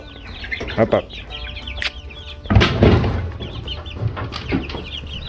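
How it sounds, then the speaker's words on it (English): Three-week-old Easter Egger chicks cluck in short bursts, some high and chirpy, others lower, with a louder flurry of clucking midway and faint background noise. "I think Puppy's enjoying having the chicks"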